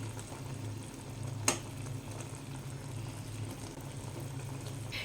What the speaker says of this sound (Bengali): আর একটু ফুটিয়ে নেব আচারটা